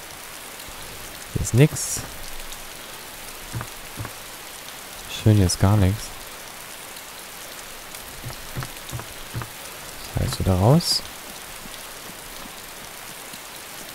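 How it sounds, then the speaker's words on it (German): Rain falling into a house in the video game DayZ makes a steady, even hiss throughout, while someone speaks German in short bursts over it. "Und es regnet wieder in die Wohnung rein."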